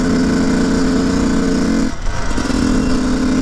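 Yamaha YZ125 two-stroke dirt bike engine fitted with a new carburettor, held at a loud, close, steady high rev with a buzzing drone, then briefly dipping and picking back up.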